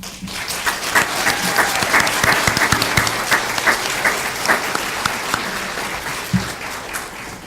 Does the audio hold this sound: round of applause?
yes